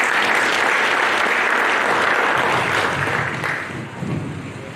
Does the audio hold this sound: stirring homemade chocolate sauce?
no